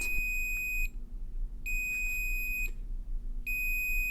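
A drink coaster's shrill electronic alarm signals a hot drink, beeping in long piercing tones, three bursts about a second each with short gaps, loud and close.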